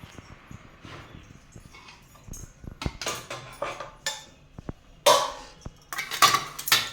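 Tomato thokku and egg packed into five lunch boxes: a spoon scrapes and taps against the containers, growing into louder clattering knocks and clinks near the end, close by with no talking.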